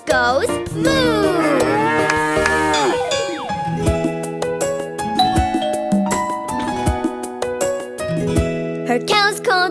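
Cartoon cow moos in a bright children's farm song, the long low moo rising over musical accompaniment, followed by bouncy instrumental backing with cowbell-like dings; no speech.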